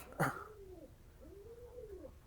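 A purebred pigeon at a pigeon farm gives two soft, low, drawn-out coos close to the microphone, after a brief rustle at the start.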